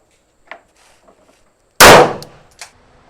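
A single loud, sharp pistol shot cracks at close range at an outdoor shooting range, followed by a quick decaying echo and a couple of faint clinks, with only small scattered noises before it.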